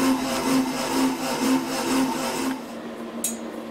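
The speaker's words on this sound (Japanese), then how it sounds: "ガチャノコの音がうるさくて申し訳ありません" A reciprocating saw rasps through material in rapid, buzzing strokes, loud and close, then stops abruptly, leaving a quieter hum and a brief high squeak.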